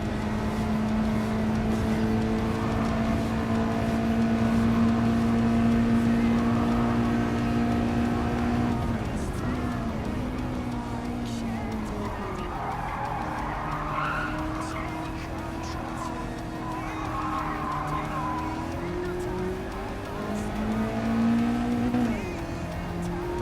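A race car engine runs steadily through a lap in Gran Turismo 7, holding a droning pitch that dips and climbs through gear changes and corners, with tire squeal and skidding mixed in, loud and continuous.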